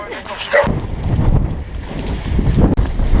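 Strong gusting wind buffets the microphone during an outdoor 5 km parkrun, a loud continuous low rumble with surges and dips throughout, drowning out other sounds.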